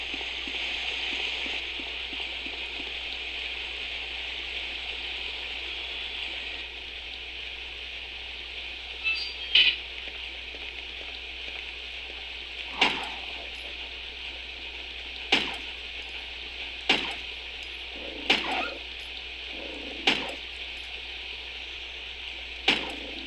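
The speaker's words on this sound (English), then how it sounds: "The water is running from the upper water passage." Steady rushing of running water from an upper water passage beside a waterfall in the Resident Evil game, a continuous hiss with occasional sharper splashes or ticks, and no talking.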